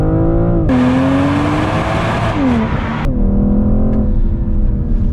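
A 2021 BMW M440i is driven hard from a standstill. The engine roars loud and close, pulls up through the revs, pauses briefly for each gear change, then climbs again in a sustained acceleration run with no talking.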